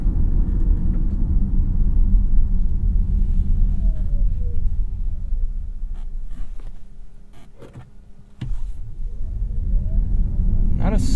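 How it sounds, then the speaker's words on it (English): A 2023 Nissan Ariya electric SUV, a pre-production model, accelerates from 0 to 60 with the AC off: steady road and tire rumble inside the cabin, with a faint rising electric motor whine climbing as speed builds. "Let's turn the AC off and get a little 0 to 60."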